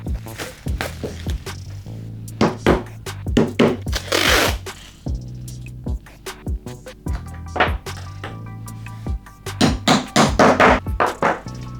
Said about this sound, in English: I will use the wedges and hammer them in the sleeves on the corners